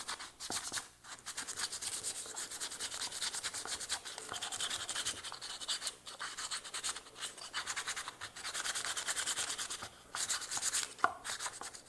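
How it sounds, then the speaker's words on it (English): Wood being hand-sanded in a workshop after its edges were rounded with a router bit, a steady scratchy rubbing that runs nearly continuously with short pauses, close and moderately loud, with no talking. "Do a little sanding."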